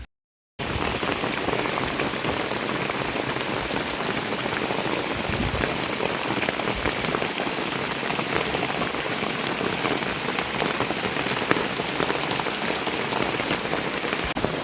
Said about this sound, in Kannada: ಮಳೆ ಮಾತ್ರ ಎಷ್ಟು ಜೋರಾಗಿ ಬರ್ತಿದೆ ನೋಡಿ